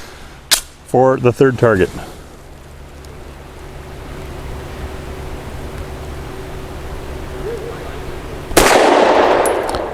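A Walther PDP 4-inch Compact pistol fires Winchester Silver Tip 115 grain JHP defense rounds outdoors; after brief talk and a quiet pause, a single loud shot bursts out near the end.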